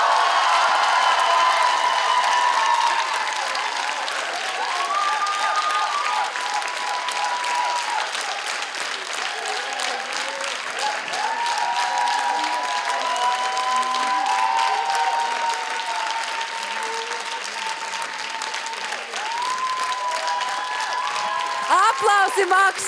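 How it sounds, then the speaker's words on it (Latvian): A large television studio audience applauds steadily for a long stretch at a music show's winner announcement, with cheering voices rising over the clapping. "Aplausi Maksimam"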